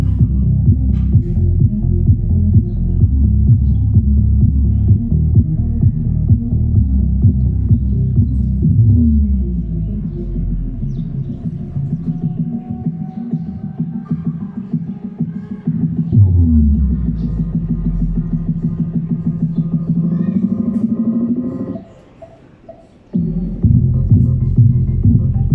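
A D8 subwoofer in a homemade box plays deep, throbbing bass during a sound test, loud and sustained, with slow downward and upward sweeps and a brief dropout near the end.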